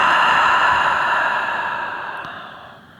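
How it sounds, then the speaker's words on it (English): A slow exhale through the mouth during a yin yoga session: one long, soft breath of close airy noise that fades steadily over about three seconds. "Exhale out through the mouth."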